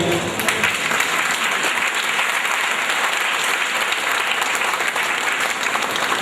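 A large audience of several hundred at a Reiki family satsang gathering claps steadily, a dense, continuous wash of applause that holds evenly loud from start to finish with no speech over it.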